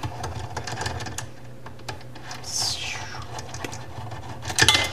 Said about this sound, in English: Let's pull these screws out. We can just get the screwdriver on them now.